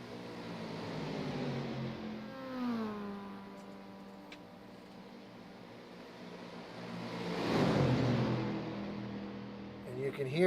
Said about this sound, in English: you can hear those Mazda engines coming by the camera right now